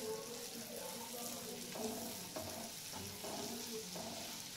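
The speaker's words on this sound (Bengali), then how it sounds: "রসুনটা দিয়ে এবার একটু ভেজে নেব।" Chopped garlic frying in melted butter in a pan, a faint, even sizzle with a few soft clicks of stirring, quiet and close.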